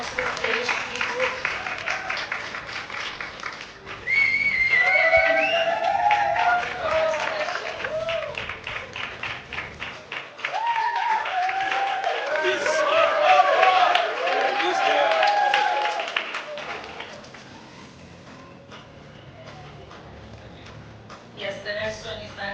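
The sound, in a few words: audience applause for an award recipient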